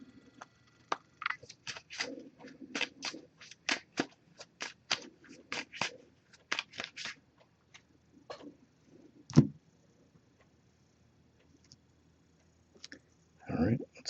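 Oracle cards being shuffled up close: quick crisp riffles and clicks in irregular bursts, then a pause and a final short burst.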